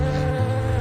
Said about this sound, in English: When flying, the bee beats its wings rapidly and gives off a buzzing sound